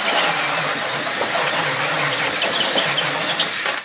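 Neiko titanium step drill bit boring through material, a loud, steady grinding whir from the drill that holds for several seconds before cutting off.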